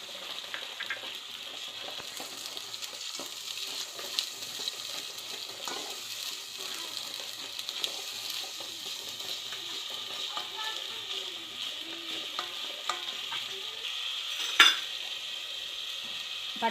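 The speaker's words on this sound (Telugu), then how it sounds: "అల్లం వెల్లుల్లిపాయ పేస్టు వేపుతున్నానండి" Ginger garlic paste frying in a pan for biryani makes a soft, steady sizzle with occasional stirring clinks and one sharper utensil knock near the end, fairly quiet.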